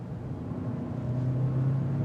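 2027 Kia Telluride Hybrid X-Line turbo engine accelerating in sport mode, a steady low drone that swells gradually louder over two seconds with no talk.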